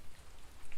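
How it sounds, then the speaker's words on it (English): Rain falls heavily on a mountain, a brief steady hiss of drops with no voices. "it is raining a lot"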